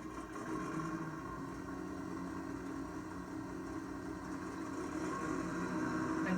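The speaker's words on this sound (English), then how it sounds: "And last but not least, our engines." Aircraft engines in a flight simulator run as a low, steady droning hum that swells slightly toward the end, quiet and continuous with no talking.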